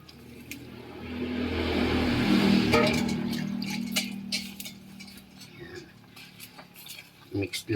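Kangkong being stirred in a metal pot, a soft sizzle with scraping and clinking of a utensil against the pot, swelling then breaking into scattered taps as someone speaks briefly.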